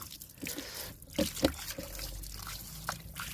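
Water poured onto a potted plant, a soft close trickle and dribble with a few drips, faint and brief.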